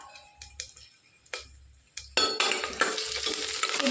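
Curry leaves hit hot oil in a pan and burst into a loud, steady sizzle partway through, after scattered spoon-and-pan clinks, with stirring scrapes continuing over the frying close by.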